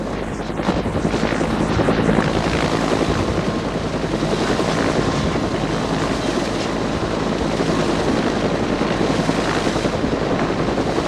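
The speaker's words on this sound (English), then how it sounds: "edging an Iroquois into position for a lift required some very accurate flying. The second chopper riding shotgun to help with positioning" Iroquois helicopters hover at close range while lifting a mast, their loud, steady rotor thudding and turbine roar filling the whole stretch without a break.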